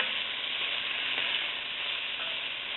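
Wedges of half a large onion sizzle steadily in a hot pan for beef stew, a dense, even frying hiss that stays constant throughout with no voices.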